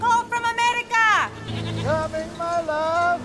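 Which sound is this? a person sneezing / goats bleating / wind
goats bleating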